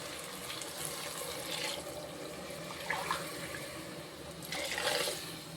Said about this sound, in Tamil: இப்போ வந்து நம்ம தேங்காய் பால் எடுத்து வச்சுருக்கோம், தேங்காய் பால் ஊற்றிக்கிடுவோம்.